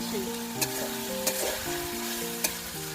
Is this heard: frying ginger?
yes